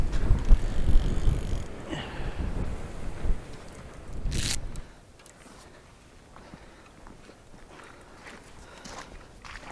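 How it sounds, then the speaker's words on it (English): Wind gusts across the microphone at a freezing lakeside carp-fishing swim in March, loud low rumbling buffets in the first half easing to a steadier, quieter background after a brief sharp burst. "God, that wind has got a bite to it."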